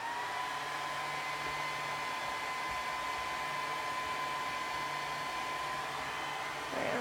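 A heat gun or hair dryer blows steadily for several seconds, a constant close whooshing drone with a faint whine, used to warm vinyl on a craft pumpkin.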